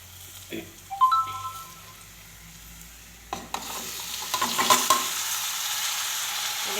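Potatoes drop into a pan of oil with turmeric and start frying, a soft sizzle swelling into steady crackling with a few clanks of a spoon.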